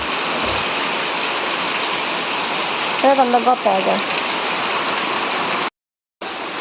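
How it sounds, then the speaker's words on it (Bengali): Heavy rain falling on surfaces around a house doorway, a dense continuous hiss with a brief gap near the end, and a person speaking briefly midway. "দেখেন গাছ বৃষ্টি নেমে দুয়ারটা একদম বর্ষা হয়ে গেছে"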